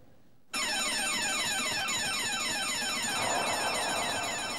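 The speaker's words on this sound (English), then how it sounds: "with the automatic alarm ringing through the grounds" An automatic burglar alarm rings across the grounds of a stately home, switching on abruptly and holding a loud, steady electronic wail with a cycling sweep, with no voices present.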